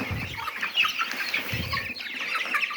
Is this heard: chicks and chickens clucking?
yes